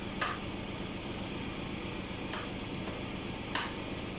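Steady, close sizzling of squid frying in hot oil, with a few brief louder crackles and pops rising out of the bubbling hiss.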